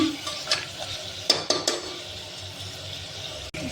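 Mutton fries in a pan, a low steady sizzle broken by a few sharp scrapes and clacks of a spatula being stirred around, ending with a brief dropout.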